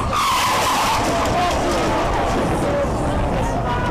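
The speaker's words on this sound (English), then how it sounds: "the driver of a Koenigsegg CCX lost control, crashed into the dozens of spectators lining the road" A Koenigsegg CCX supercar skids with loud, sustained tire squeal as the driver loses control during a road race lined with spectators, roaring steadily throughout with crowd noise faintly beneath.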